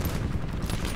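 Rapid gunfire in Call of Duty Black Ops 4 fills the whole second as a dense, loud burst of overlapping shots, heavy in the low end.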